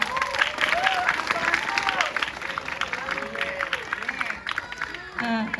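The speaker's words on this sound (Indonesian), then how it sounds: "Tepuk tangan dulu." An audience at an Islamic boarding school gathering claps together, a steady moderate patter of applause that fades near the end, with a voice speaking over it.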